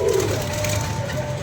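A pigeon coos close by, a low continuous throaty burble with a steady background hum.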